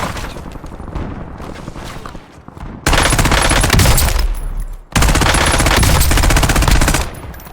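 Rapid automatic bursts from an FFAR rifle in a video game, loud and close, with a lighter stretch of fire giving way to two long, dense sustained volleys separated by a short pause.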